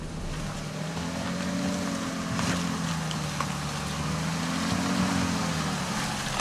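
A Bentley Bentayga SUV engine drones steadily under sustained power as it climbs a steep, loose, muddy hill, a loud continuous rumble with rising and falling tone and wind noise.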